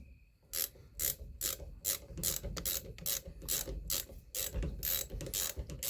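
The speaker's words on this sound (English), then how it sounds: "And we need a 7/16 to tighten this thing down." A 7/16 ratchet tightens the breech plug on a TC Omega muzzleloader in a run of rapid, crisp clicking bursts, close and clear with short pauses between strokes and no voices.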